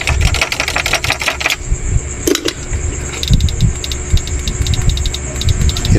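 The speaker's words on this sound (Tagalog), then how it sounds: "Hirap yung blower natin umikot" An old-model 99000W inverter's blower fan struggling to spin, a loud rattling, clattering mechanical chatter with rapid irregular ticks and a shifting whine, continuous and close, with a brief bump partway through.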